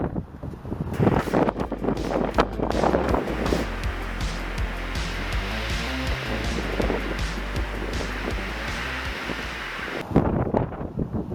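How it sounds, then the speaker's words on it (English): Strong outdoor wind roars and buffets the microphone in heavy gusts for the whole stretch, with a harsh low rumble and no voices. "the wind is just blowing like crazy"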